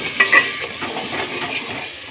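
Masala fries in a pan for a potato and egg dish, a close, steady sizzle broken by a few scraping stirs of a spoon across the pan.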